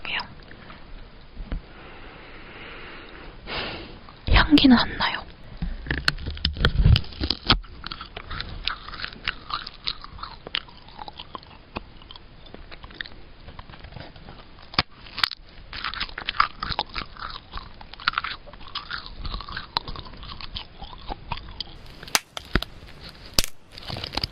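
Close-miked crisp biting and crunchy chewing of strawberry-flavored edible colored paper, with steady crackly mouth sounds and occasional louder crunches over the whole stretch, along with soft whispered talk.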